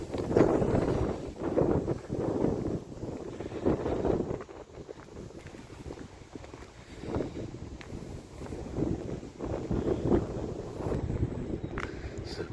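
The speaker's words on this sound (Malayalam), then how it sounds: "രസമുണ്ടല്ലേ, അടിപൊളി കാറ്റ്." Strong wind blows outdoors on a morning walk in Kaifan, Kuwait City, roaring steadily into the microphone in rough, buffeting gusts that swell and ease throughout, with no voices.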